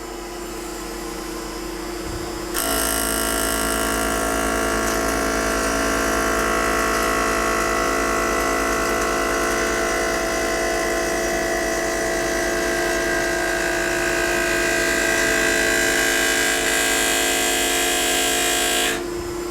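Tormach CNC mill spindle at 3,000 RPM taking a light cut on a stainless steel plaque, a steady loud whining hum with sharp tonal ringing that starts abruptly after a quiet moment and holds evenly throughout.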